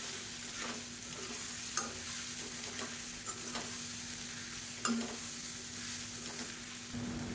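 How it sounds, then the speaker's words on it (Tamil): Coconut masala fries in a pan with kara kolukattai balls while a spoon stirs, giving a steady close sizzle with occasional scraping clicks and a faint hum underneath. "சேர்த்து நல்லா எல்லாமே குழந்து வர மாதிரி பரட்டி விட்டுக்கணும்"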